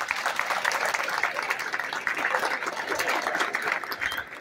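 Sustained applause from an audience at a school cooperative day ceremony for fourth-year economics students, steady and fairly distant, a continuous wash of many hands clapping with no break.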